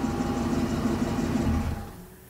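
A car slows on its engine and the motor cuts out at the end, a steady mid-to-low engine hum that holds, then drops away and fades toward quiet.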